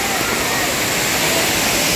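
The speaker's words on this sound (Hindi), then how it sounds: "पानी हल्का हल्का जो है गिर ही रहा है अभी भी" Dhaskund waterfall in Mahasamund, Chhattisgarh, running at low flow: a loud, steady broadband rush of falling water fills the whole moment without pause.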